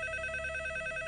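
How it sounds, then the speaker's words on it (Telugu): A telephone sounds with steady sustained electronic tones, close and moderately loud, fitting a home phone number being dialed. No talk is heard. "వాడి ఇంటి నెంబర్ కలిపి నేను మాట్లాడతాను."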